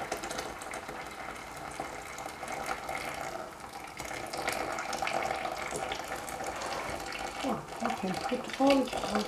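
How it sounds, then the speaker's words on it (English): Boiling water pours into a pot holding yogurt in a home kitchen, a steady running splash and trickle lasting throughout, with faint voices beneath. "We put the yogurt in the pot and then put in hot water, boiling water."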